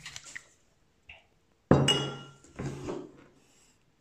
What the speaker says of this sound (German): den Raki einschenken